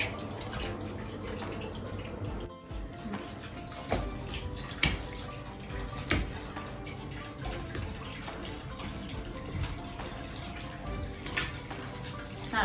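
Yuzu fruit going into a home onsen-style bath: continuous close sloshing and splashing water with a few sharp knocks and plops.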